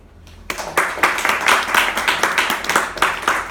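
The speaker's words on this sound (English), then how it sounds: "Another round of applause for Hal." Audience applause for Hal after a reading: a room full of hands clapping steadily and fairly loud for a few seconds, rising in from near silence.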